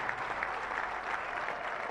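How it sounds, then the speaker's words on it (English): Audience applause at a Zambian independence anniversary event, a soft, steady wash of clapping heard from a distance with no voices over it. "Let's clap for them."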